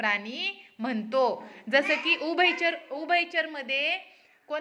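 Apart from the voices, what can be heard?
No everyday noise stands out behind the speech.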